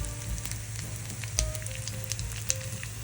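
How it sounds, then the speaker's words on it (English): Salmon cakes sizzle and crackle in hot oil, a steady close frying hiss with scattered pops. "got the oil really hot. And it's nicely frying up here."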